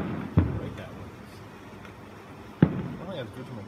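Two fireworks from a Summit Hill show burst far off, each a distant thump a couple of seconds apart, with faint background murmur between them.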